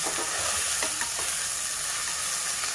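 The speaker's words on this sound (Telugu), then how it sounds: "కాస్త పసుపు వేసేసి మంచి వాసన, అల్లం పేస్ట్ బాగా వేగితే కదా." Ginger paste and turmeric fry in a pan on low heat for a dried mutton curry, giving a steady, close sizzle with a few faint stirring clicks and no talk.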